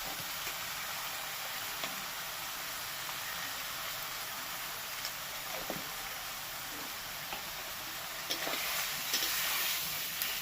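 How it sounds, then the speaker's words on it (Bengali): Broccoli sautéing in a pan with spices such as roasted cumin powder and garam masala gives a steady, soft sizzle and hiss throughout, with a few brief stirring scrapes near the end. "দেখো ব্রকলি দেওয়ার পরে ভালো করে কষিয়ে নিয়েছি"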